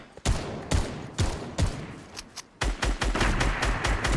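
Gunfire in a shooting video game: a run of sharp, loud shots, spaced at first and then in quicker bursts, close and punchy with no talk over them.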